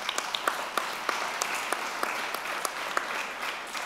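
Audience applause at a conference session, a short burst of scattered, fairly sparse clapping with distinct individual claps standing out, moderately close and fading slightly.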